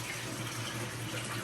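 A pump draws water in while fish are being moved from one tank to another, giving a steady, close, continuous rushing flow with a low hum and no pauses or talking.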